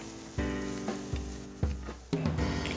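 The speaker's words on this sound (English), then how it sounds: "Get a cast iron skillet over medium to low heat and slowly cook the bacon, rendering out the fat" Bacon sizzling slowly in a cast iron skillet over medium-low heat, a steady close frying hiss with a few soft thumps and bumps as the pan is shifted, no voices.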